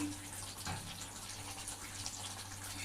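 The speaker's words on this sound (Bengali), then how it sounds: "একটু জল দিয়ে দেবো নেড়ে চেড়ে একটু মাখো মাখো হবে তরকারিটা তাই সামান্য জল দিলাম" A small splash of water poured into a simmering prawn and mixed-vegetable curry, heard as a soft, continuous close trickle and gush with faint stirring.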